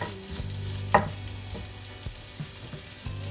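A spice blend fries in oil for a Madras tamarind fish, a soft sizzle with a few light knocks and scrapes as it is briefly mixed, close up and without speech.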